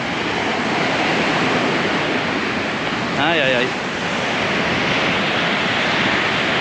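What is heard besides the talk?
ocean waves breaking at Punta del Este beach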